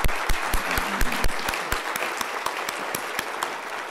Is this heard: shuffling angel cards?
no